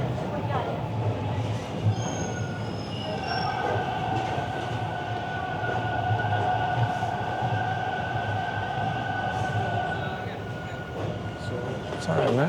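A Toronto subway train pulls into a station, a steady loud rumble of wheels on rail with sustained high brake and wheel squeals, tones shifting as it slows, continuous for the whole stretch.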